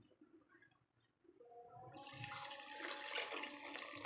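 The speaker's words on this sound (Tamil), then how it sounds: "இப்போ இந்த ஸ்டேஜில் நம்ம இதுக்கு தேவையான தண்ணி ஊற்றலாம்." Water poured into a pan of vegetable kurma as it cooks, starting after a quiet moment and turning into a steady, fairly loud rushing splash that runs to the end.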